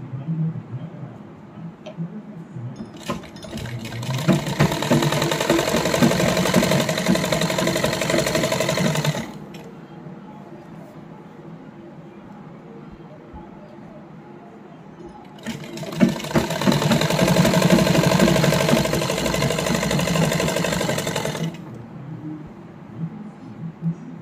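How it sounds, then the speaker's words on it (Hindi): Sewing machine stitching lace onto a salwar, two long bursts of steady rapid mechanical whirring close by, each lasting about six seconds, separated by a quiet pause with only faint background noise. "इसी तरह से पूरी सिलाई को कंप्लीट कर लेंगे।"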